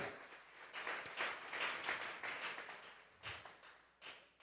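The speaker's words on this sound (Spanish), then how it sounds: "Vamos a regalarle ofrenda de palmas al Dios de la gloria." Church congregation clapping together during a worship service, a dense, steady wash of hand claps with a few louder individual claps standing out, sustained for several seconds.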